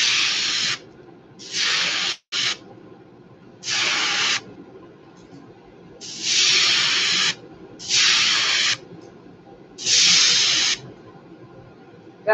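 Short bursts of an airbrush spraying paint onto a fishing lure, about seven hissing blasts of a second or so each, separated by quiet pauses, loud and close.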